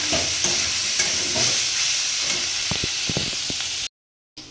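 Potatoes sizzle in a pan with only a little oil as a utensil stirs and scrapes them, a continuous frying hiss broken by clinks and scrapes before the sound cuts out near the end.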